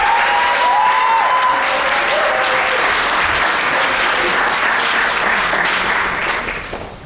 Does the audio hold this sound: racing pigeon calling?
no